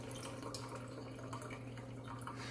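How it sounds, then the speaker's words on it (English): Excess water dripping and trickling off freshly washed eggs held over a sink, a faint, steady patter of small drips close by with no talking. "just kind of dump all the excess water that's out"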